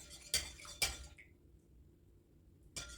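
A dough whisk stirs sourdough starter in a bowl, producing a few sharp clinks and scrapes against the container separated by quiet pauses.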